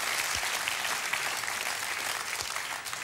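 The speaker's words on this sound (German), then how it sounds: "So ein Beifall, er hilft und zeigt" Sustained applause from a television studio audience, steady and dense throughout with no pauses, loud and close without any voices over it.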